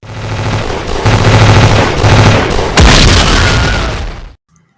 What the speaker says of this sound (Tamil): ஆயிரக்கணக்கான பீரங்கி குண்டுகள் வானத்தை சிதறடித்தன.